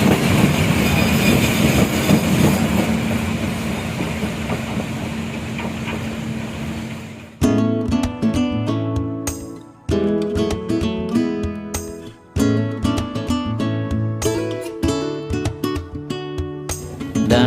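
Jayakarta passenger train departing Surabaya Gubeng station: a steady rumbling roar at first, then loud rhythmic clattering and clunks of wheels over rail joints with brief pauses, heard up close from inside or beside the carriages.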